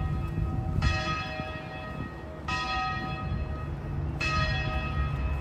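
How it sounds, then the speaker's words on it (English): Church bells ring on the Brown University campus on College Hill in Rhode Island: three loud, resonant strokes about every second and a half, each one ringing on and fading over a low outdoor rumble. "Yeah, they're Brown's bells."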